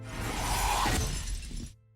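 Stained glass shatters in House on Haunted Hill with a loud sustained crash of breaking glass and scattering shards, followed by a sudden cut to near silence.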